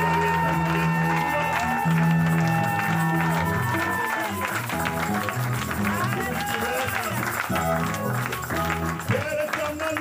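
A church congregation erupts in loud, continuous cheering, shouting and clapping in praise of God, a dense crowd roar with voices rising over it throughout.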